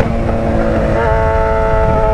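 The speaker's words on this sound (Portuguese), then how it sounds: "Essa é minha XJ6. Minha XJ6. Minha moto muito foda." A Yamaha XJ6 motorcycle engine runs close by with a steady, buzzing tone that steps up slightly in pitch partway through, loud and without talk.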